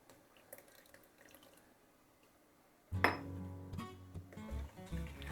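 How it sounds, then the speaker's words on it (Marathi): Water poured into warming beetroot soup in a pot after a quiet stretch of faint clinks, a sudden close splash and gurgle followed by a few utensil knocks, no talk. "आता मी थोडं पाणी वाढवते ह्याच्यात."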